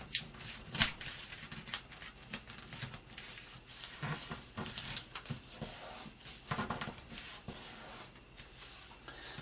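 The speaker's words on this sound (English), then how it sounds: "Then take the left corner and fold it to the top." Paper being folded into an origami turtle, close soft rustles and crisp rubbing as creases are pressed down, with a couple of sharper crinkles early on.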